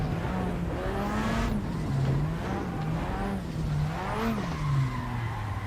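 A car drifts in the Assetto Corsa racing game in VR, with a steady engine drone that rises and falls and sustained tire squeal, loud and continuous throughout.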